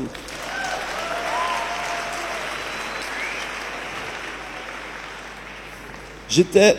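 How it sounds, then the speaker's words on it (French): Audience applause at a Sunday morning church gathering, a dense sustained wash of many hands clapping that fades gradually, then a few louder sharp bursts near the end. "Vous avez le droit d'applaudir, hein, on a le droit."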